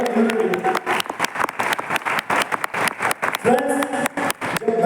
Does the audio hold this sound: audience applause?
yes